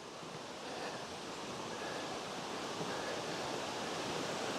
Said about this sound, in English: that waterfall is Cane Creek Cascades